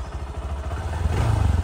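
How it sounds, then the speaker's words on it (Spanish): A motorcycle ridden over rural ranch land, its engine droning steadily with a rising, pulsing rumble as it picks up pace, with rattling and clatter from the bike, loud and close. "Así me acuerdo cómo andar en moto."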